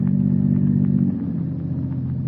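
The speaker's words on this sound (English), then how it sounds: "The unearthly silence is broken only by the purr of a motor car." A motor car engine purrs in an old-time radio drama, a steady, low, droning hum heard alone. It eases slightly softer about halfway through.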